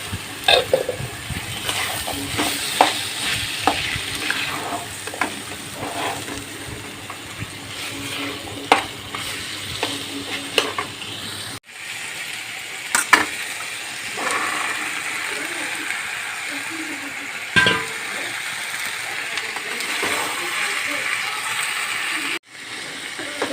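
Cut potatoes are added to a little hot oil in a home kitchen pan, giving a steady close sizzle and frying hiss with scattered stirring clinks and scrapes throughout.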